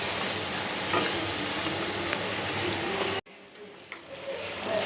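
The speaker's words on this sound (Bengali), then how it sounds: "লাল লাল করে ভাজবো সুন্দর করে" Frozen chicken snack items frying in oil give a loud, dense, continuous sizzle up close, which briefly cuts out and then resumes more softly.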